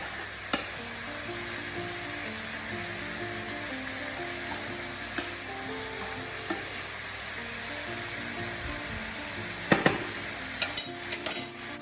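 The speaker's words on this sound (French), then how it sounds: "Ça va caraméliser mes morceaux de viande et mes petits oignons." Veal pieces and small onions caramelizing in honey in a sauté pan, a constant close sizzle with soft stirring, then a cluster of metallic clinks and scrapes toward the end.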